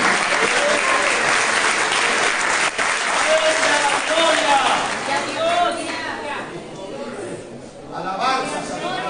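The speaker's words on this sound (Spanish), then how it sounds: "Dele palmas al Señor esta mañana." A church wedding congregation clapping hands, a loud, sustained wash of many people clapping together that eases a little toward the end, with voices mixed in underneath.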